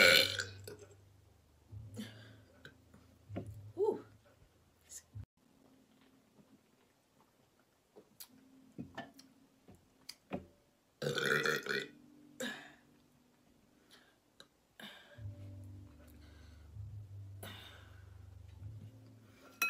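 Several loud, deep belches come in irregular bursts with quiet gaps between them, the longest ones near the start and again toward the end, with faint breathy sounds in between.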